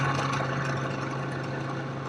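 A 2006 Pontiac G6 blower motor whirs steadily at close range, a constant mechanical hum with a firm low tone and airy rush, unchanging across the short stretch with no talking.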